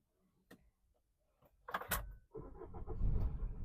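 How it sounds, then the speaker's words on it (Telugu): A 2019 Maruti S-Cross Zeta diesel starts on its push button: clicks and a brief whir, then the engine catches with a loud burst and settles into a steady, close diesel idle. "కార్ ఒక్కటే సెల్ఫ్ లో స్టార్ట్ అయిపోయింది"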